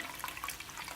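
Water is poured into sour curd mixed with a little salt, giving a brief, steady, soft trickle without any talk.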